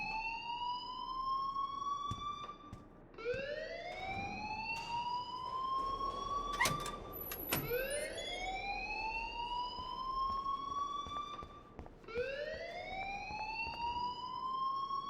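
A fire alarm wails in the video game Life is Strange Remastered, rising siren sweeps repeating every few seconds, loud and alone, with a couple of sharp clanks between cycles.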